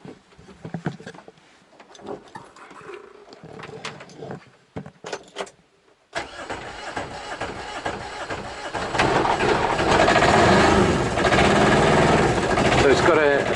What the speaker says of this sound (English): So it's got a 2-cylinder diesel engine, and it's automatic